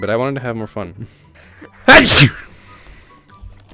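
A single loud, sharp sneeze bursts out close by just after a person finishes speaking, followed by quiet room tone.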